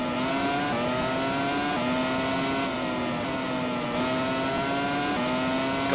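Formula 1 car engines scream in Grand Prix 4, a loud, sustained high-revving drone with gear-shift steps as the pack races side by side, with no talk over it.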